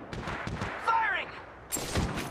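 Gunfire from Apex Legends Mobile, with loud broadband bursts of shots opening the moment and returning after a short pause, mixed with game voice lines.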